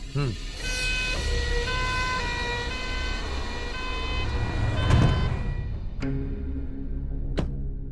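An ambulance siren wails with a steady repeating tone through a film scene, mid-distance, while people talk over it and a few sharp clicks cut in near the end.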